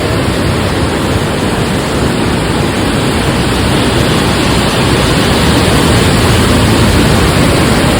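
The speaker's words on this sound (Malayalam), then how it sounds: "അതിശക്തമായ കുത്തി ഒഴുക്കാണ് കേട്ടോ." A flooded river in full spate rushes past in a powerful torrent, a loud, dense, unbroken roar of churning water that holds steady from start to finish.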